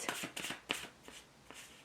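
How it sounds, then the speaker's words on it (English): Tarot cards being shuffled by hand, a series of quick papery riffles and flicks in separate bursts, close and fairly quiet with no talking. "when I've been shuffling, the cards have been just flying"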